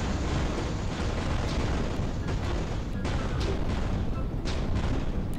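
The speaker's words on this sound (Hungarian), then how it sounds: "Nézzük, utolsó robbanás." A dense, continuous roar of rumbling blasts and crackling, with sharper bursts now and then, like a loud game explosion filling the whole stretch.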